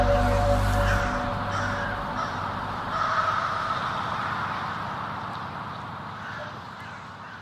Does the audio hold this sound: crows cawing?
yes